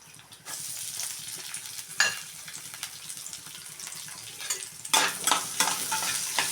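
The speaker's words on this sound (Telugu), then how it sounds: "కొంచెం వేగిన తర్వాత ఆనియన్స్ వేయాలండి" Onions frying in hot oil with a close, steady sizzle and bursts of louder hissing and stirring, the strongest at the start and again toward the end.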